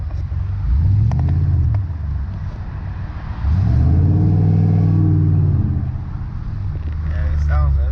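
A Mustang fitted with Flowmaster mufflers rumbles deeply with the windows down, the exhaust swelling in two loud revving surges and settling back to a low burble between them.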